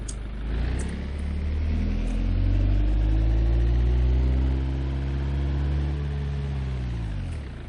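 A car engine in the BeamNG driving game throttles up while reversing with a manual clutch, a loud low hum whose pitch rises and sways steadily for several seconds without any speech.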